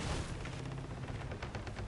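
A ship's cannon volley in Assassin's Creed Black Flag comes through as a quiet, rumbling spread of deep booms and crackling shots, rolling together rather than landing as separate blasts.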